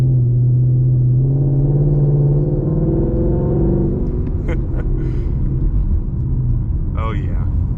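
Ford Mustang GT engine droning while cruising, a deep steady rumble that rises in pitch early on and then holds, heard from inside the car with brief clicks near the end.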